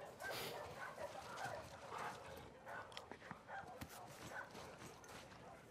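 A dog barks in The Last of Us Part II during a game of fetch, with short, fairly close yips that come and go under steady game ambience and some spoken voice.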